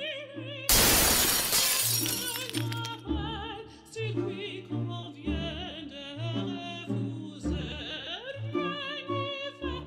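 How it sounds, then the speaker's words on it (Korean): A sudden, loud crash of a chandelier's crystal and steel shattering bursts out near the start and rings briefly before music continues over it. "수정들과 강철이 부서지는 소리를 들은 앨런은 속으로 중얼거렸다"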